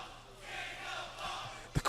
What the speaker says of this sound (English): The crowd's calling for a caning.